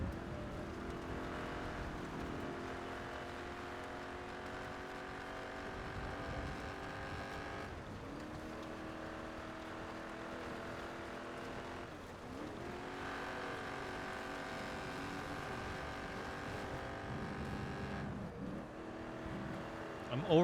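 A car engine drones steadily while driving in a video game, its pitch rising and dropping through several gear changes over about twenty seconds, quiet and even, with talking over it.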